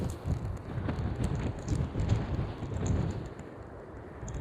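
Strong wind buffets a microphone beside a stream in Taiwan, producing low rumbling gusts that rise and fall continuously, fairly faint and without speech.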